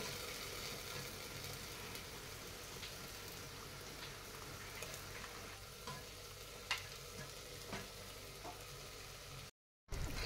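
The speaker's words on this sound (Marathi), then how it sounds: "आता ही चटणी सुद्धा ह्या तेलामध्ये, मसाल्यामध्ये चांगली भाजून घ्यायची." Ground chutney frying in oil and spiced masala for a Satara-style chicken curry, a faint continuous sizzle with occasional soft stirring scrapes, then a short gap before the sound returns.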